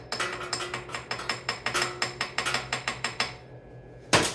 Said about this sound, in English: Let's just tap it in a little